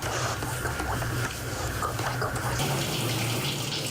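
Water runs from a tap to fill a bath for a dog, a steady loud gushing stream close by that continues throughout.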